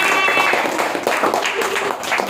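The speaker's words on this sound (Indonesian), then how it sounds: "Tepuk tangan buat kita." Students clap together during a primary school lesson with an interactive flat panel. The claps are irregular and fairly close over a couple of seconds, with light voices mixed in.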